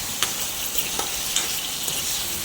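Paneer and cashews fry in hot oil, giving a steady close sizzle broken by small crackling pops and light stirring, with no talking.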